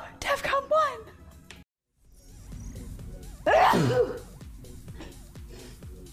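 A single loud, close sneeze rings out midway through, with people talking before and after it and a brief silent gap earlier on.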